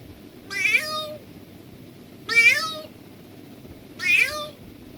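A human voice imitates a cat, giving three drawn-out meows spaced evenly a couple of seconds apart. Each call is clear and close, with quiet pauses between them.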